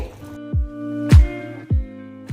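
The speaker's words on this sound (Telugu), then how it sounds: "ఇదిగోండి ఈ విధంగా మరగాలి" Milk and water boil together in a pot for boondi curry, giving three thick, low bubbling plops at a slow, uneven pace over a steady low hum.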